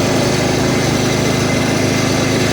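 Riding lawn mower engine running steadily, a loud, close, continuous small-engine drone with a rough pulsing throb and no pauses.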